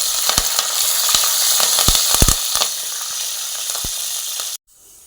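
Shallots and curry leaves fry in sesame oil in a clay pot, a loud continuous sizzle broken by sharp crackles and pops, cutting off abruptly just before the end.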